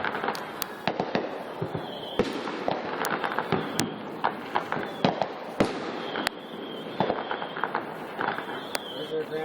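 Fireworks going off at an outdoor display with cannon launchers set up: a run of sharp, irregular bangs and crackles, some near and loud, others more distant, over crowd murmur and occasional voices.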